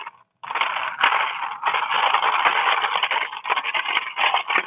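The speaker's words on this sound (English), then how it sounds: "And now we just literally give that a stir." Loud, continuous scraping and grinding close by, a spoon stirring a drink as if churning through thick, chunky ingredients, with a sharp click early on.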